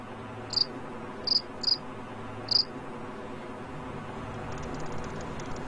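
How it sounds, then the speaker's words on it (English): Crickets chirp in short, sharp bursts, four distinct trills spaced apart over a steady low background hum. "Now that the competition is over, Zhao allows his crickets to mate"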